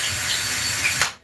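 A power drill bores a hole for an anchor, a loud steady whirring grind that runs continuously and then stops abruptly, with no talking.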